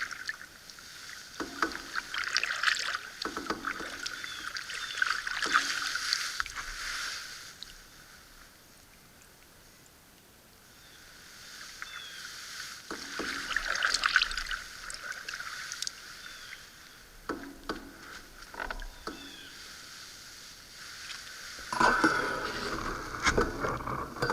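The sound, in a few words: paddling a canoe across a lake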